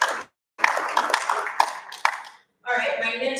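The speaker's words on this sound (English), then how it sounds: "A round of applause for him, please." A short round of clapping from an audience for a panel speaker at the Afritech technology event, a brief burst of mixed claps that stops, followed by someone speaking.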